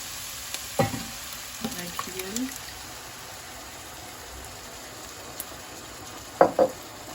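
Onions frying in a pan for a Turkish meat sauté give a soft, steady sizzle, broken by a few brief clinks and scrapes of a utensil against the pan.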